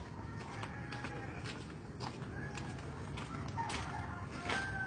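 A red rooster at a padepokan house in Cirebon crows and clucks faintly in short bursts over a steady low background noise, sounding somewhat distant and quiet.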